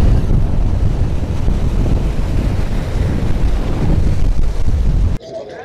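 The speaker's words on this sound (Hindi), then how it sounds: "लेकिन लहरें इतनी तेज़ आ रही है ना" Strong sea waves surging and crashing on a coast, heard close and loud under heavy wind buffeting the microphone, then cutting off abruptly near the end.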